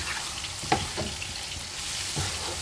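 Chicken with cumin, coriander, chilli powder, salt and ground pepper sizzles steadily in a pan, with a few soft knocks and scrapes as it is mixed, a close, even frying hiss throughout with no talking.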